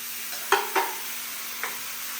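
Curry leaves, tomato paste and curd sautéing in a pan, a steady soft sizzle broken by three brief scraping stirs of the spoon, close and fairly quiet with no talk.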